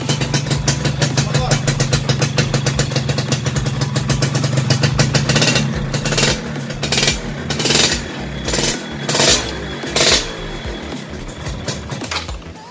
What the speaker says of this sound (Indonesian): Ini di knalpot garing sekali, lenting banget.